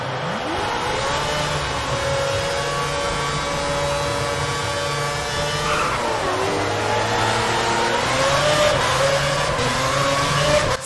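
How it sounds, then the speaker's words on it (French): A V8 Formula 1 engine in the racing game F1 2010 revs steadily and loudly, its pitch climbing through gears, dropping sharply on a shift midway, then rising again, continuous with no talk. "Ça, c'est un bon moteur V8"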